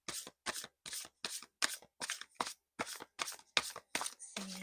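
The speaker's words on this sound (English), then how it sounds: "We're gonna shuffle for your first card." Tarot cards are shuffled in a quick, regular series of about a dozen crisp riffling bursts, close and fairly quiet.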